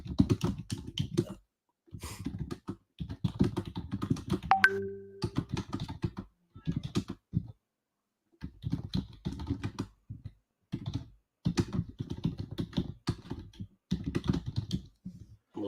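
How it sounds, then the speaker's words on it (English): Close, steady typing on a computer keyboard in quick bursts separated by short pauses, with a brief electronic chime partway through. "Watch what I'm typing in chat."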